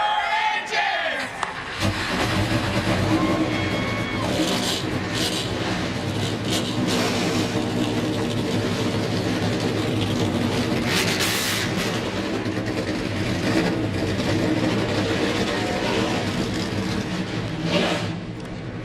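A loud, sustained roar of many ARCA race car engines firing up together at Pocono Raceway, rumbling continuously with crowd noise mixed in.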